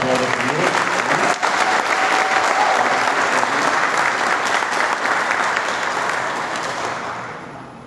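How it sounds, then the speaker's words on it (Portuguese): A church congregation applauds the Lord together, a dense, steady wash of clapping from many hands that holds strong for several seconds before gradually tapering off, with a faint voice briefly audible early on. "Vamos dar uma forte aplauso ao Senhor."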